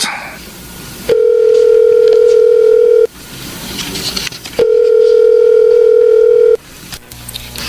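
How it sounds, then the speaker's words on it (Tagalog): A telephone dial tone sounds on an outgoing call, two long steady tones each lasting about two seconds with a pause between, loud and close, with faint room noise in the gaps. "Tatawagan ko si Ma'am Olivia"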